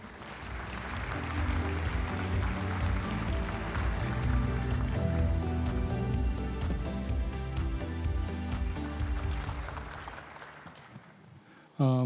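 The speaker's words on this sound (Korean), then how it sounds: "큰 박수로 맞이해 주시기 바랍니다" Sustained applause from a large audience welcomes a university president at a festival ceremony, dense clapping rising quickly and holding steady before fading away near the end, followed by a brief loud burst.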